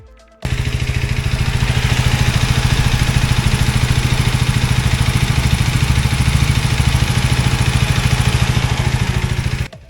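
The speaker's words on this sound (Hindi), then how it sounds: "ये रेडिएटर फैन का साउंड है।" A Hero Xtreme 250R motorcycle, just after a hard ride, sits with its liquid-cooling radiator fan whirring over a steady, pulsing idle. The sound stays loud and close throughout, then cuts off abruptly.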